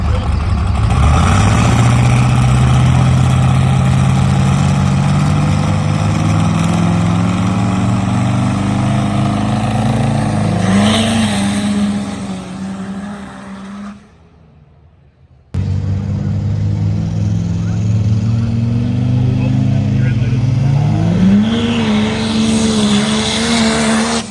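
Diesel drag race with a 1,250 horsepower Cummins engine on the Viking Village side, roaring loud and steady as it climbs in pitch through gear changes, dropping briefly near the middle before the heavy rumble resumes.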